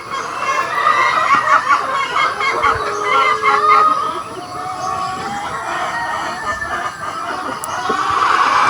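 Many chickens clucking together in a busy, continuous chorus, loud and close, with a rooster crowing among them, on a poultry farm of laying hens.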